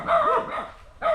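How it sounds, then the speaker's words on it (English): Dogs bark in a Philippine neighbourhood, a couple of close, sharp barks with a short pause before another begins, heard alone without talk. "What is it with dogs around here, guys? Everything's so territorial."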